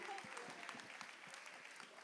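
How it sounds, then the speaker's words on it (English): An audience at a fashion carnival award ceremony applauds in a steady, faint wash of clapping that keeps going throughout, with a voice talking over it. "give them a round of applause,"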